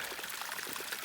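Icy cold water is poured on a hot day, a brief, close, continuous splashing rush with no gaps.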